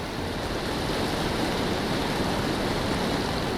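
Fast, heavy flood water rushes in a broad, unbroken roar that stays steady and loud, with no voices and no separate splashes standing out. The current sweeps a jeep full of tourists during a rainy-season flood.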